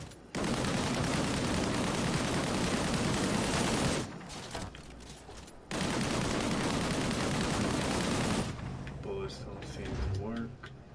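Sustained gunfire in the video game Disintegration, two long, loud continuous bursts separated by a brief pause, with a voice speaking near the end.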